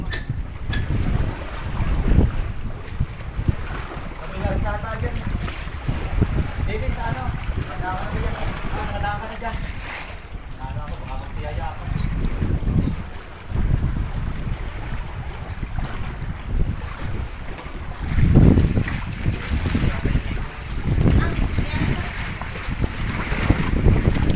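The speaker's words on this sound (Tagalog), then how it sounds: "Ayan na yung bangka na malaki." Steady wind rushing over open water in the Philippines with a large boat's low engine rumble beneath, continuous and fairly loud throughout.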